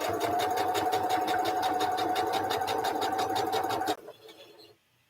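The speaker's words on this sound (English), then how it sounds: "I'm sewing the binding on my quilt that LL finished for me." A vintage sewing machine stitches binding onto a quilt, running in a steady, fast mechanical whir with rapid needle ticking for about four seconds before stopping abruptly, leaving faint room noise.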